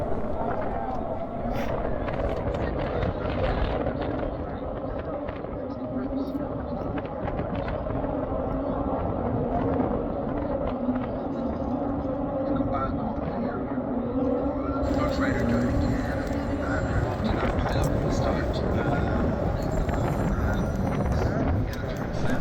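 MotoGP2 class motorcycles race at a track with a steady, loud engine roar that swells and fades as bikes pass, mixed with wind buffeting on the microphone and a rise in high-pitched whine near the end.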